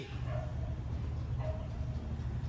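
A dog howling at a distance, two drawn-out cries rising above a steady background hum, fairly faint and short.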